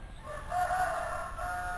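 A rooster crows once nearby, a drawn-out, wavering call over a low background hum.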